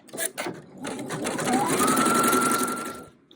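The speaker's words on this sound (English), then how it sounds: "So the first stitch is going to be that placement stitch right on your stabilizer." An embroidery machine sews a placement stitch on stabilizer for a pineapple crossbody bag, a few quick mechanical clicks giving way to a steady, fast whirring hum that fades out after about three seconds.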